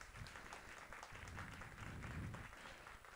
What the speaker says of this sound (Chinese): 我逐一介绍，大家给掌声，包括有李卓芬教授